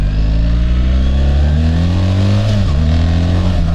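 A 2025 triple black BMW GS 1300 motorcycle accelerates, its loud, close engine note climbing steadily in pitch, with a brief dip as it shifts, then rising again. No voices.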